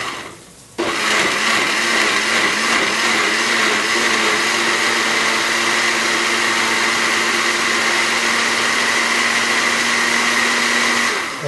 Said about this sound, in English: Just want to pulse it a few times and break up some of the pieces